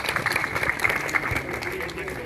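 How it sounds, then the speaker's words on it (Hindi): A crowd applauds for farmers at an independent candidate's nomination rally in Bhadra, with steady, dense clapping heard at moderate distance for a couple of seconds. "एक बार जोरदार तालियां किसान साथियों खातर।"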